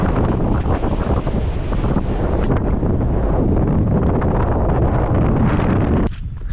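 Strong wind on an exposed Lake District mountain, buffeting a microphone in a loud, constant roar with gusty rumble, easing slightly at the very end.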